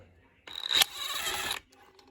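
Bolts come out of an old Cadet three-phase grinder under restoration with one close, busy burst of metallic ratcheting and clatter lasting about a second, set against quiet surroundings.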